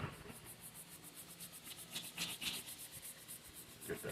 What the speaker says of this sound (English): we're going to start buffing it with our brush here